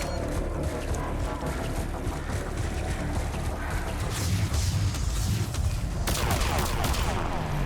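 Gunfire in the video game Mass Effect 3 while a sniper rifle is in use, dense overlapping shots and blasts under rumbling battle noise, with a sharp loud crack near the end.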